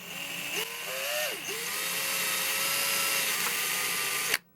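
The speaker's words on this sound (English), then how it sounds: "just go ahead and drill a small hole" A power drill whines steadily, pitch dipping briefly as it bites into CPVC pipe drilling a small hole, then running on until it abruptly stops.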